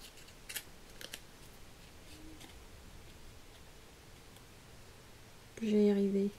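Scissors snipping paper for a Christmas card, a few faint, sparse cuts and rustles at close range, with a voice briefly heard toward the end.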